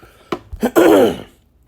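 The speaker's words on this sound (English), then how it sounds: "Trying to clear my throat." A single throat clearing close by, a short rasping burst of a few harsh pulses ending in a rough, drawn-out scrape, then quiet.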